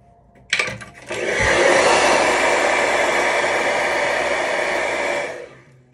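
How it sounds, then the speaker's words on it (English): Hair dryer blow-drying a wig: it clicks on and runs as a loud, steady, close whoosh for about four seconds, then shuts off. "I'm gonna blow dry it down"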